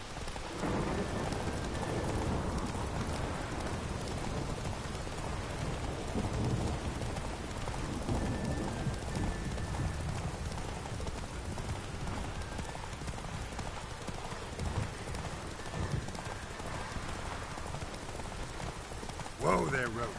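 Roach the horse gallops in The Witcher 3, rhythmic hoof clip-clop under steady rain with occasional distant thunder, a voice speaking briefly over it.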